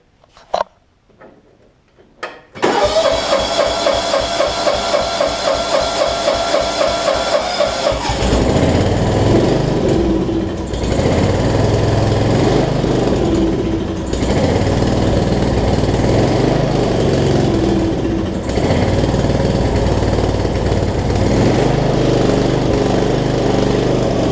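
A riding lawn mower engine cranks a few times after a quiet moment, then catches and settles into a loud, steady running drone, close and alone for the rest of the stretch.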